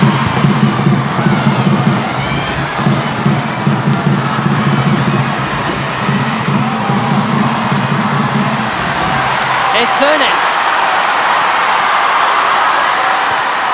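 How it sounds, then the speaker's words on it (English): Crowd at Ashton Gate during a Women's Super League football match between Bristol City and Arsenal: a steady, broad roar of spectators fills the stadium beneath a commentator's voice. "Cheered on by the crowd here at Ashton Gate."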